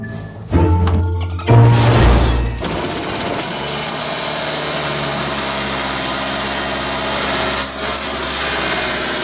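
An abandoned medical van's engine cranks and catches in a forest clearing, with loud bursts of cranking and revving at first that settle into a steady, rough running drone lasting to the end.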